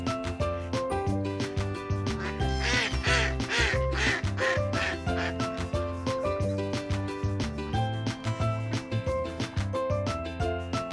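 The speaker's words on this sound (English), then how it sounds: "Ducks." Ducks quack in a burst of repeated nasal calls over a bouncy children's phonics song with steady beat and bright melody, the quacks clustered early then blending into the music.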